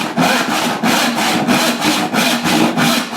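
A hand saw rips through wood along a curved kerf for a Queen Anne side table, with steady, rhythmic push strokes about every third of a second, close and fairly loud, and no voices.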